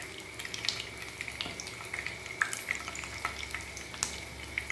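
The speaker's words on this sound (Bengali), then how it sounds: "এবার আমি পাতাগুলো খুব আস্তে করে এই ব্যাটারে ডুবিয়ে নিয়ে তারপর আমি তেলের মধ্যে" Battered pumpkin leaves crackle and sizzle in hot oil for pakoda, a steady fry broken by small pops and a few light clinks, with no voices.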